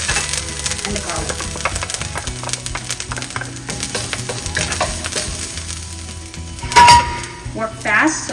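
Ginger and garlic stir-frying in oil in a wok over medium-high heat, a dense, steady crackle with scraping and clattering of the utensil, a sharper clatter near the end, and faint talk in places.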